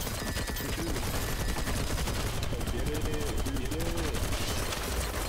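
Rapid suppressing gunfire in the video game BattleBit Remastered, dense overlapping bursts of automatic rifle shots that continue steadily throughout, with a voice speaking faintly beneath the shooting.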